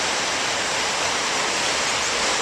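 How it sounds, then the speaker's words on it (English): Waves crash and wash in and out along a rocky, eroded shoreline below a landslip, a steady loud broadband roar of surf filling the whole stretch with no voices. "just the waves crashing in and out"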